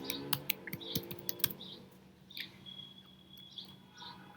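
Keystrokes on a computer keyboard while typing a short phrase into a presentation slide, a quick burst of clicks at first and then sparser, softer taps, close by and without any talk.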